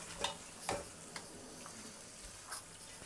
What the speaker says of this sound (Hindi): ہم اس کو اچھے سے بھون لیں گے،